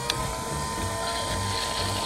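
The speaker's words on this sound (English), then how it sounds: "That's the sound of the arm going up and down." A toy vehicle's mechanical arm moves up and down with a steady, close whirring motor and faint ratcheting clicks, continuous and even throughout.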